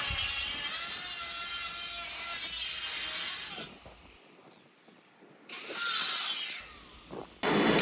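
A power cutter slicing through an old aluminum gate picket, a harsh, loud, high grinding screech that runs steadily, drops away briefly, then resumes in close bursts.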